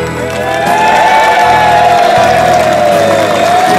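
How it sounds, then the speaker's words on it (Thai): A crowd at a Thai homecoming reunion cheers and claps loudly and close by, with a drawn-out shout rising above the clapping and general crowd noise. "ขอเสียงปรบมืออีกครั้งหนึ่งนะครับ"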